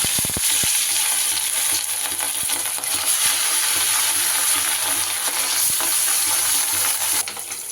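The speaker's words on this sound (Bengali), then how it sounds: "এবার সবার প্রথমে আমি মাছগুলো ভেজে নেব।" Pieces of katla fish fry in hot rice bran oil, giving a steady loud sizzle and crackle throughout with occasional sharp spatters, close up and with no talking.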